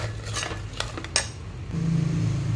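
A spoon scrapes and clinks against a metal pot a few times as rice is stirred for khichdi, followed by a low, steady hum.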